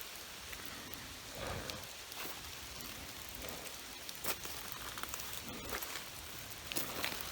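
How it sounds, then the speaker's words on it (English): Steady rain falls throughout, a soft continuous hiss with scattered louder drops pattering on a surface. No voices. "It's been raining all day."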